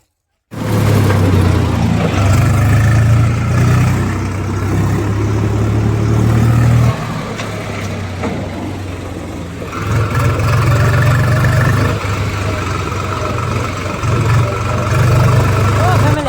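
A tractor engine running on a farm, a close, steady low throb that drops in level partway through and then picks back up, with a voice now and then over it.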